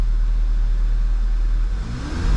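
A 2011 Volkswagen GTI engine being tested for misfire, idling loud and close with a steady low thrum before the revs climb sharply near the end.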